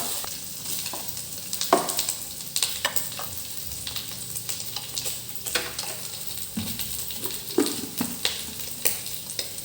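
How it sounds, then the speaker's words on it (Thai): Pork belly pieces frying skin-side down in a hot pan give a continuous, moderately loud sizzle with scattered spattering pops and occasional scrapes, no voices. "ใส่หมูสามชั้นลงไปครับ เอาหนังให้โดนกระทะก่อนนะครับ"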